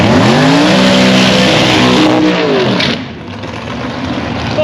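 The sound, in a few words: altered dragster with LS 6-litre engine racing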